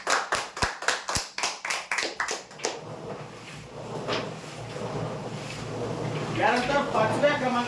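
Sharp, rhythmic clapping from a gathered crowd cheering winners at a weekly prize draw, a burst of about a dozen loud claps that fades into murmuring voices and background noise.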